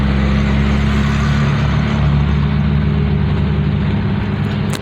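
A 1951 Dodge Wayfarer with Gyro-matic transmission cruising in third gear, its engine giving a loud, steady low drone with a constant rumble and no break throughout.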